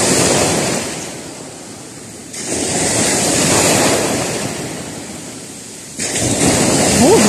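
Sea waves surge and wash in repeated broad swells along a shore where boats float, loud and close with wind buffeting the microphone, the surf rising and falling in roughly three waves.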